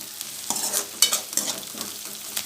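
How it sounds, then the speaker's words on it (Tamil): Onions and green chillies sauté in a pan, giving a gentle sizzle broken by a few quick stirring scrapes and clinks of a spoon, close up and without any talking. "நல்லா வெங்காயம் நல்லா வதங்கணும்."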